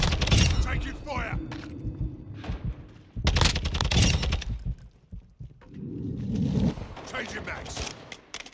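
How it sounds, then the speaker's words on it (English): Bursts of automatic gunfire in a Call of Duty Modern Warfare 2 team deathmatch come in several clusters. Loud, close shots alternate with quieter gaps, and in-game voice callouts sound between them. "Taking fire!"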